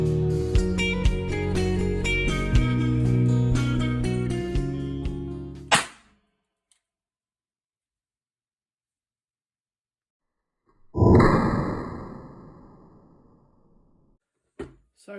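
A rare blank-firing blunderbuss is test fired: background music plays, then silence, then a single loud report with a ringing decay, followed by a short sharp click.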